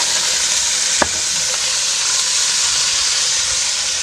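Whole spices temper in hot oil, sizzling and crackling with a loud, steady hiss, and a sharp clink sounds once near the start, while cooking a whole masoor lentil dish.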